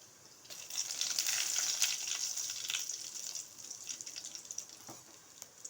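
Spices such as cinnamon and chilli with urad dal sizzling in hot oil, a steady close hiss with faint crackles and a few stirring scrapes, gradually easing off.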